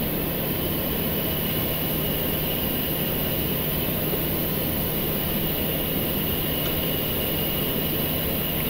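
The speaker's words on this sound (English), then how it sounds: "You'll let me know when I can start the engines." In the cockpit of a Boeing 737 MAX, a jet engine spools up during start. A loud, steady roar with a high whine holds constant and fills the cabin. No voices are heard over it.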